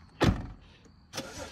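A BMW engine cranks and catches with a loud burst, settling briefly before a second surge of engine noise revs up close by.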